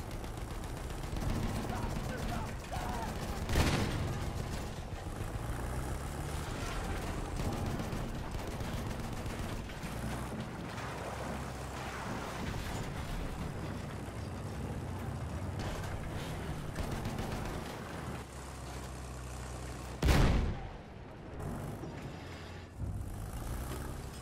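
Battlefield 1 combat rages with continuous rattling machine gun fire, rumbling vehicles and two sharp, loud blasts standing out from the dense, busy battlefield noise, with shouted voices mixed in.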